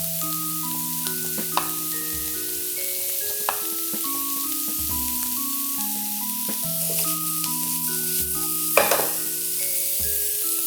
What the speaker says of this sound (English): I like to season onions and garlic when I'm cooking it